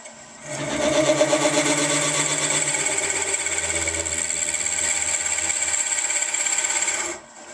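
A power drill bores into a wooden pepper mill body, running steadily at about 500 rpm with a continuous whirring, rasping cut that starts and stops cleanly over roughly seven seconds, close and loud.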